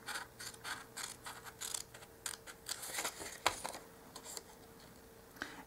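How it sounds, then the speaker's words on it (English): Irregular crisp snipping and rustling of scissors cutting through paper, close by, in quick uneven bursts with a faint steady hum beneath. "I think I am going to cut it out also just with scissors"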